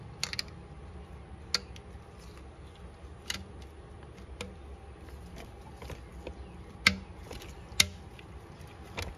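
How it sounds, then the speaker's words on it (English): A torque wrench clicks as it tightens a single lifter tray bolt to 9 foot-pounds on a 422 twin-turbo engine, giving a few sharp, sparse ratcheting ticks and mechanical clicks over a low steady background hum. "we're gonna torque this single bolt down 9 foot-pounds"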